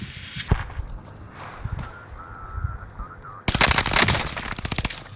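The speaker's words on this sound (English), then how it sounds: "You've done that with a submachine gun." Submachine gun fire in a trios battle-royale video game, a rapid sustained burst of shots arriving late after quieter game sounds and a few isolated cracks.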